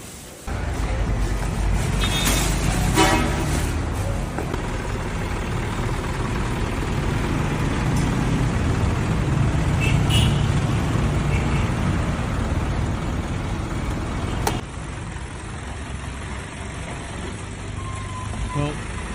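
Trucks idle and rumble while being loaded for an aid shipment to Gaza, a continuous loud engine drone with clatter and a few sharp knocks, under speech.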